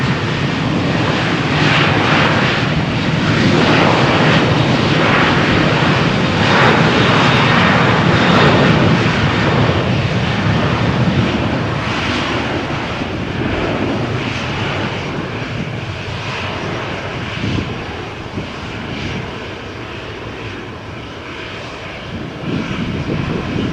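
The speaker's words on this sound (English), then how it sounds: "Airbus A330 from Dublin is approaching in these seconds." An Airbus A330 arriving from Dublin approaches Malaga Airport's runway 13 on a stormy morning, its engines a loud, broad, sustained roar that swells and then slowly eases over about twenty seconds.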